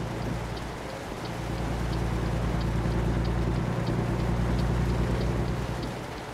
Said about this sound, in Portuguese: Como a chuva apertou agora e agora já começa a ficar escuro.